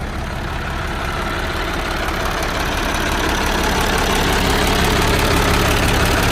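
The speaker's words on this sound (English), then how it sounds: "the engine itself don't sound bad at all" A Farmall tractor engine idles at close range, with some wobble in the front pulley. The low, even chugging runs steadily throughout with no voices.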